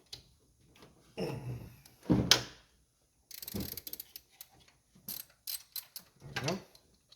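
A ratchet wrench works a 15 mm belt tensioner bolt loose on a 5.7 Hemi Dodge Magnum, giving several short, fairly quiet bursts of clicking separated by pauses.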